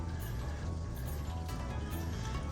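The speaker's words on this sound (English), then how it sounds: "My sewing machine is making a noise it shouldn't make." A home sewing machine with a fault runs with a dense, steady mechanical rattle and ticking, like gears and a ratchet grinding, close and continuous with no talking.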